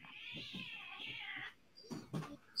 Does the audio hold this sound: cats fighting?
yes